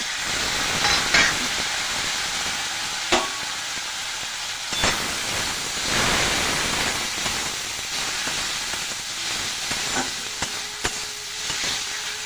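Masala with cumin powder, chopped tomato and a splash of water fries in a pan for a crab curry, a loud steady sizzle and hiss with occasional stirring scrapes and spatters close by.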